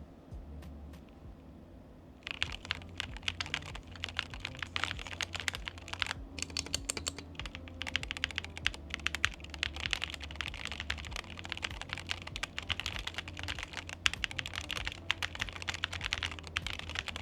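Steady, rapid typing on a custom Corsair Makr 75 mechanical keyboard, close and crisp, with clacky keystrokes in a continuous flow after a brief quiet start.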